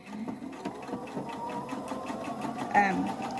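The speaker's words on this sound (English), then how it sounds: "So the top stitch is just a little bitty stitch line right at the edge" A sewing machine top-stitches a narrow line about 1/8 inch from the edge of a reversible scrub cap, running in a steady rapid whir with faint stitch pulses and a brief louder burst near the end, while a person talks.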